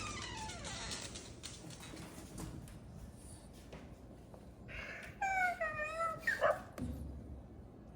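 A cartoonish puppy in a video game yips and whimpers in a short burst of high, wavering cries near the end, after a stretch of quieter game sounds and background noise.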